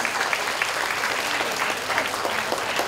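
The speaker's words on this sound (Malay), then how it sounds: "Berikan tepukan yang paling gemuruh untuk Ustaz Kazim Ilyas." Thunderous audience applause for Ustaz Kazim Elias at a university convocation festival, loud and dense, a continuous roar of many hands clapping without pause.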